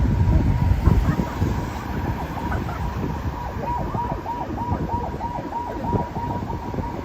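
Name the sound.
ambulance siren following a bus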